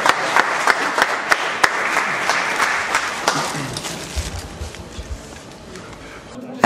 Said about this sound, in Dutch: ik zou zeggen van applaus voor het ondernemerschap